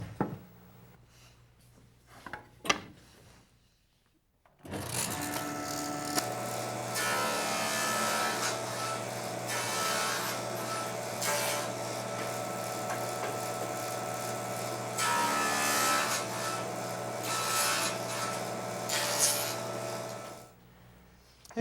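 Power saw cutting wooden cabinet parts in a workshop: after a few seconds of quiet handling noises, the blade spins up into a long, loud steady whine with the pitch shifting as the wood feeds through, then stops.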